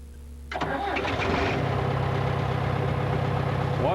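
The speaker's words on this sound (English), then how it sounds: "Once the engine is started," A 1999 fire suppression unit's engine cranks and catches about half a second in, then settles into a steady, loud mid-pitched running hum close by, with no voices.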